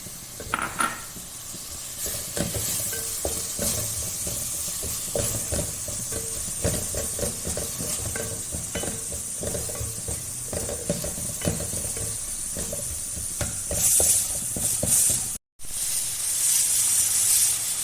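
Ginger garlic paste for chicken curry sizzles loudly in a pan, with repeated scraping and clinking strokes of a spoon stirring throughout and a sharp cut-off near the end.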